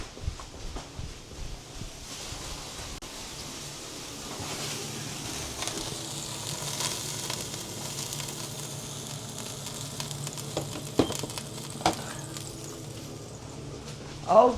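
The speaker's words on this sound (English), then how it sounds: "My chicken was boiling over." A pot of chicken boiling over on a stove gives off a faint, steady sizzling hiss with scattered clicks and small clatters. No one speaks.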